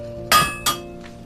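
A blacksmith's hammer strikes copper and iron twice, each a sharp ringing metallic clank with a bright shimmering tail, the second slightly softer, followed by a faint distant clink.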